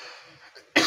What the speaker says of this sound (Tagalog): Kailangan kong umubo once in a while.